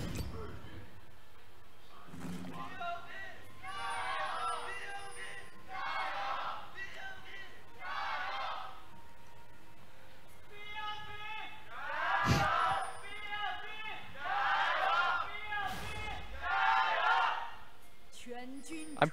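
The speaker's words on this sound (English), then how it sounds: "Let's hear it from the fans as they cheer on their teams." Fans in an esports arena at an LPL match between Topsports Gaming and Bilibili Gaming chant for their teams, several rhythmic crowd chants rising and falling in bursts, loudest toward the end, with brief announcer talk early.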